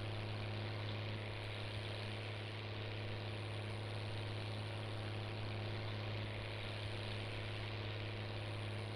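A CBT tractor's diesel engine runs steadily at a constant rumble with a fixed low hum, the fuel pump missing its small screw, continuous and close with no talk.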